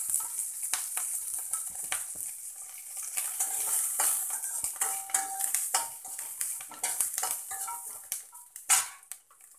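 Oil goes into a pan for Telugu bottle gourd (sorakaya) chutney, with a steady high hiss of sizzling, scattered clinks of a metal spoon against the pan and brief stirring scrapes, close and fairly loud without any talk.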